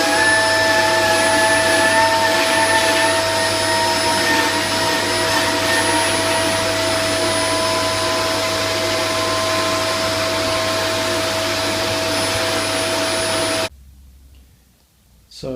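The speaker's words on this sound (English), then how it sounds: "So I'll just try to suck up some of the loose dirt." A vacuum cleaner with an interior attachment pulls loose dirt from Recaro car seats, a loud steady whine running for about fourteen seconds before cutting off abruptly.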